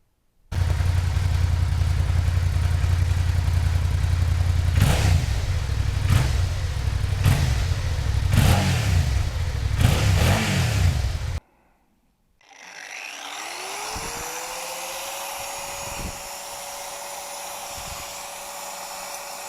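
A stock-exhaust 1999 Suzuki SV650S V-twin motorcycle idles with a deep loud burble and blips the throttle several times in sharp rising revs; after a brief cut, a fainter engine note swells and settles.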